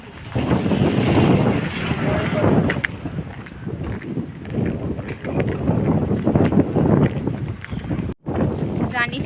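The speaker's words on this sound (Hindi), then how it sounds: "मस्त बहुत अच्छा हवा चलत है एकदम" Strong cool wind blows outdoors beside Rani Sagar lake in Rajnandgaon, roaring and buffeting the microphone in steady gusts, loud and close, with a brief dropout near the end.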